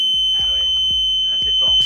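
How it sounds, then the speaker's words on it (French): A loud alarm clock aboard a Figaro 3 racing sailboat rings as a steady, piercing electronic tone, with a few brief thumps and muffled sounds beneath it. "Ça, c'est un réveil assez fort."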